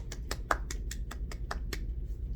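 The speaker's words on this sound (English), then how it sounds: "Give yourselves a round of applause." Children in an elementary music lesson clap in a short run of about ten sharp, evenly spaced claps over a low background rumble, fairly close and not loud.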